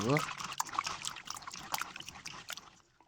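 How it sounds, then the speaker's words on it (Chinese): Edamame soybeans being rinsed by hand in a large basin of water, with irregular splashing and sloshing close by under a speaking voice. "再清洗几次就可，直到洗毛豆的水变得清澈为止。"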